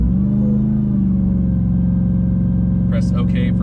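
A RAM TRX pickup truck engine holds a loud, steady roar at full throttle during a launch-control start, and a person speaks briefly near the end.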